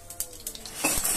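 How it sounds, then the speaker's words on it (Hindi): Mustard seeds and chana dal in hot oil give a close, crackling sizzle with scattered pops and stirring scrapes, swelling louder toward the end. "जैसे ही राई तड़कने लगे"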